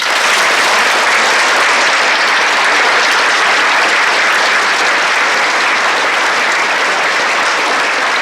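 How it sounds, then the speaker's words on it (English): Loud, dense applause from a large audience at an International Women's Day event, a steady unbroken roar of many clapping hands that holds for the whole stretch with no voices over it. "Can we have a big round of applause?"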